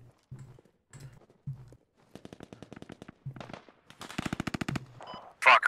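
Bursts of automatic gunfire in the military squad shooter game Squad, with rapid rattling volleys and single shots broken by short pauses, some distant and some close, ending in a loud nearby blast.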